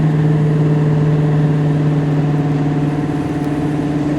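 A 1988 Ford Mustang Saleen convertible's engine drones steadily while driving, a loud, even mid-pitched hum with a constant low tone and no voices.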